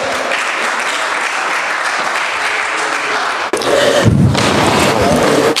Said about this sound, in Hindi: तालियों में